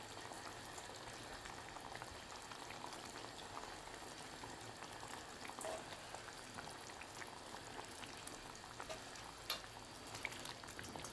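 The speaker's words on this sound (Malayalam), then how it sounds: "ചാളമീനാണ് ഓരോന്നായിട്ട് കറിക്കിടുന്നതാണ്" Sardines go one by one into a thick red coconut and raw mango curry that is simmering. The gravy makes a quiet, continuous bubbling with a few faint plops and clicks scattered through it, and nobody talks.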